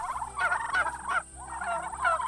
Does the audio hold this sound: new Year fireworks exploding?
no